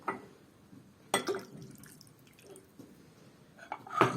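A quarter cup of vinegar is poured for a garlic sauce, heard as quiet splashy bursts and drips into a container, close by and without speech.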